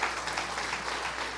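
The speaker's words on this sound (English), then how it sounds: "give them a round of applause for their contributions as well" An audience at an Indigenous cleaner energy forum applauds, a dense, even patter of many hands clapping at moderate distance that holds steady throughout.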